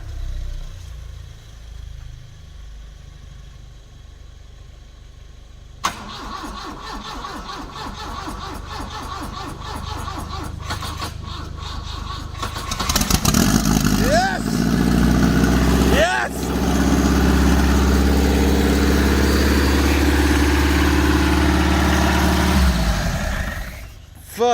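A freshly built 400-horsepower big-turbo four-cylinder engine cranks over, catches on its first start and settles into a loud, rough idle, with people talking and laughing over it.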